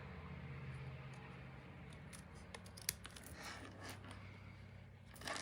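Handheld snips cutting out a paper card piece for a stocking card: faint crisp snipping and paper rustle over steady room hum, with a few short sharp clicks.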